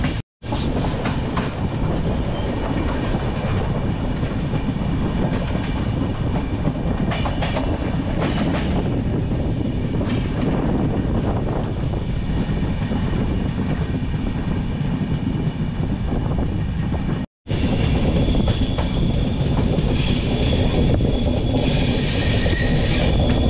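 Passenger train running on the Chandigarh to Ludhiana line, a loud steady rumble of wheels on rails heard from inside a carriage, broken by a brief dropout, then high metallic squealing and whining toward the end.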